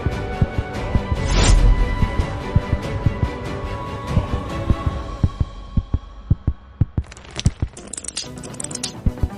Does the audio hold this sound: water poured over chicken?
no